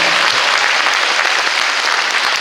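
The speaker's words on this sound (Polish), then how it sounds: "Wielkie ukłony, wielkie ukłony i wielkie brawa, naprawdę wielkie brawa." Sustained, dense applause fills a carol and pastoral-song concert hall, a steady wash of many hands clapping at close range with no pauses.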